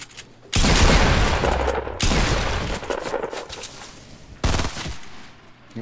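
Loud bursts of rapid gunfire from a shooter video game, three separate volleys with short gaps between them, close and harsh with no talking.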